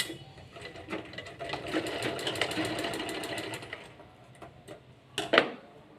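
A sewing machine stitches a frock in quick rattling bursts, with a short pause and then a final whir and clack of the needle. It is close and moderately loud, and there is no talking.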